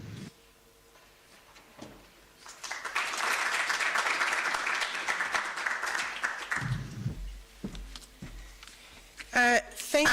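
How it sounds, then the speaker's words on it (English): Audience applause following a research presentation at a library event, a dense sustained burst of clapping lasting several seconds, rising and fading, with brief voices before and after. "May we give her another round of applause?"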